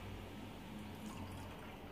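Coconut water poured into a small measuring cup for homemade fruit popsicles, a steady low liquid trickle and splash running continuously and fairly faint, with no talking.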